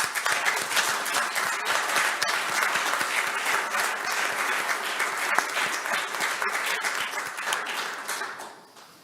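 Conference audience on cultural property protection breaks into sustained, dense applause, a steady wash of many hands clapping throughout that tapers off at the very end.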